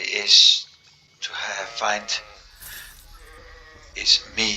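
A sheep bleating in the fantasy video game Sacred Underworld, a few loud wavering bleats at the start and end with game sounds between, close and clear.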